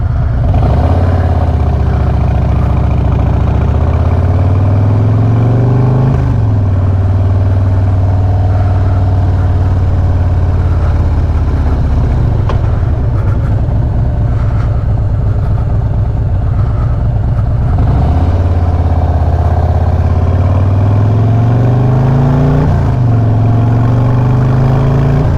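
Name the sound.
Harley Road Glide with Vance and Hines exhaust pulling away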